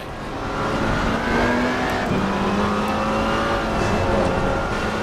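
A racing car engine in a sim-racing video game drones and revs continuously, pitch climbing through the gears with a brief drop at a shift, loud and steady with faint tire noise.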